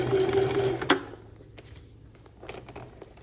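A sewing machine runs a line of topstitching on a lined multipurpose kids' pencil case, whirring steadily at close range for about a second, then stopping, followed by light handling clicks and rustles.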